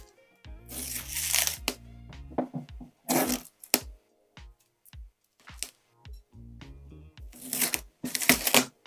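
Plastic packaging crinkles and tears as a protected model boat hull is unwrapped, in repeated bursts of rustling and crumpling separated by brief pauses, close and fairly loud.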